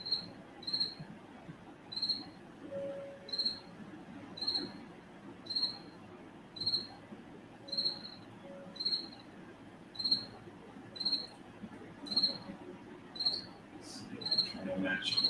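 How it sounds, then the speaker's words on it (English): Crickets chirp indoors in regular, evenly spaced bursts about once a second, steady and moderately close over a faint room background, with occasional faint extra noises. "these crickets were going buck wild yesterday"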